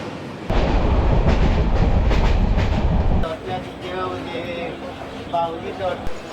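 The Howrah–Ranchi Intercity Express roars loudly crossing the Barakar River bridge with a heavy, continuous rumble, then the noise drops to a lighter rattling clatter under nearby talking.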